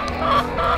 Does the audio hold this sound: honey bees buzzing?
no